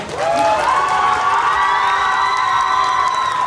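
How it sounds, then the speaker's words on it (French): A crowd at a cosplay contest claps and cheers loudly, with high children's shouts and whoops. The sound swells quickly and stays loud and sustained. "On l'applaudit vraiment."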